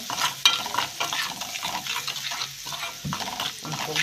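Vinegar poured into a sizzling pan while food is stirred, a soft ongoing fry with scraping and light liquid splashes, moderately close.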